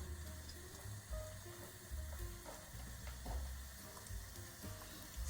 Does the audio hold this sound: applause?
no